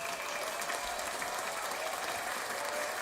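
Round of applause for the hosts of a live show, a steady even patter of clapping from a small audience throughout, moderately loud.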